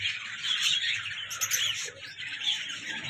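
A breeder pair of lutino ring-necked parrots chirping, a continuous stream of high, shrill, close chirps and squawks with no talk.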